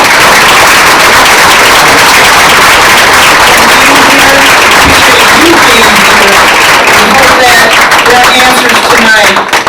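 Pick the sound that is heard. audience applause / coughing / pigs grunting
audience applause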